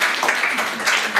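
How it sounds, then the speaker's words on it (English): Brief burst of dense clapping from a room of attendees at a round table kick-off event in Pordenone, close and fairly loud, lasting about a second. "Big applause for the gift"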